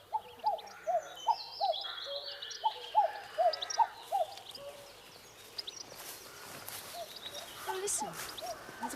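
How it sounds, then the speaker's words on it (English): A cuckoo calls repeatedly in leafy countryside on Midsummer's Day, a steady series of soft two-note calls at a distance, later fading under rustling and faint outdoor background. "Oh, listen. There's a cuckoo."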